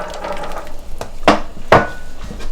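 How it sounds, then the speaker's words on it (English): Pasta being stirred in a pot of water on the stove, with a few soft knocks and scrapes of a spoon against the pot and two sharper clinks standing out, close and moderately loud, no talking. "Give it a quick stir."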